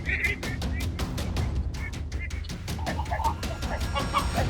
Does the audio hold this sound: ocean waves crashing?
no